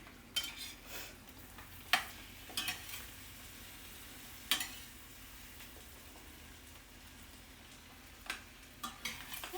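Bread toasting in a frying pan for one-eyed Susans, a faint low sizzle under occasional clinks and scrapes of a utensil against the pan, with no talk.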